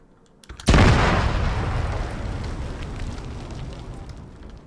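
In the Arma 3 video game, an explosive charge detonates with a sudden loud boom after a brief quiet moment, followed by a long rumbling, crackling decay that fades slowly over several seconds.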